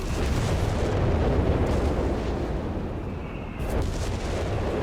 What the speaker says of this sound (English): And getting blown apart by British artillery.